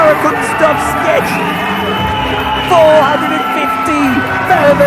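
A crowd of about 450 wrestling fans in Colac, Victoria, Australia, cheers for the hometown hero as he retains his championship. Loud, continuous shouts and whoops fill the hall, with rising yells and excited cries throughout.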